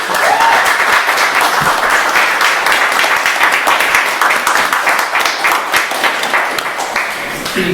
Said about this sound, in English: Can I get one more round of applause?